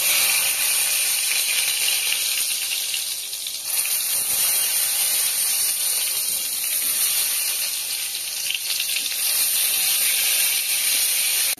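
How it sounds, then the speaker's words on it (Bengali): Marinated eggplant slices frying in hot mustard oil in a pan, a continuous loud sizzle and bright hiss that holds steady throughout, with no talking. "এবার আমি ভাজতে চলে যাব।"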